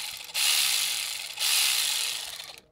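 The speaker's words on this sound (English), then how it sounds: "this is the 1/4 inch ACDelco, and you can hear how it sounds here" An ACDelco 1/4 inch cordless ratchet, a brushed tool, runs in two separate bursts of a close, buzzing mechanical whir, each lasting about a second, with no talking.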